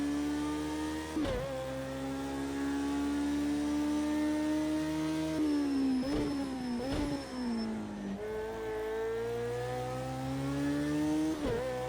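A Bac Mono race car in the Project CARS 2 video game at Bathurst revs high and steady, its whining engine note climbing through gear changes with brief dips on each shift.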